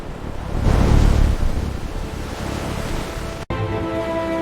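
Ocean surf rushes loudly as a wave swells and breaks, then settles into a steady wash before a brief cut to calmer water with a low tone.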